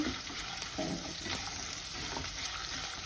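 Dry red chilies crackle in hot oil for vermicelli pulihora, a soft, even sizzle up close with a few faint spoon knocks and no talking.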